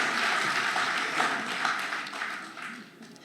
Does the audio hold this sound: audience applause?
yes